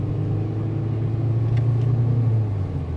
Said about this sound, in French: Regarde, j'accélère.